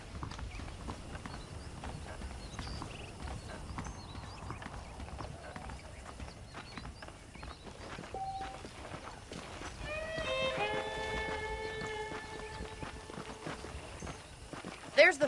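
Saddled horses clip-clop on hooves in the video game Red Dead Redemption, a steady walking rhythm under background game noise and speech, with a brief tonal chime near the end.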